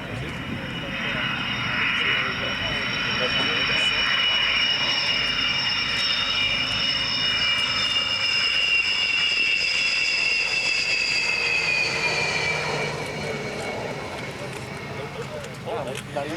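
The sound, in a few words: Soviet MiG-29 Fulcrum jet flying low at airshow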